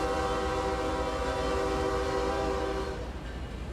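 A modern K5 train horn, the default Jonadrell model in the Trainz railroad simulator, sounds one loud, sustained chord blast close by, holding steady before tapering off at the end.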